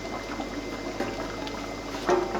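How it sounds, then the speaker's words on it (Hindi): Water at a rolling boil in a cooking pot for beef nalli nihari broth, a steady bubbling and hissing with a slightly louder surge of bubbles near the end. "आधा घंटा हो गया और पानी में बॉयल आ गया"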